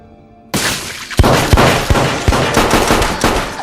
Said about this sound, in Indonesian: Namun terjadi baku tembak antara Bob Mooney dengan Dana Bayback.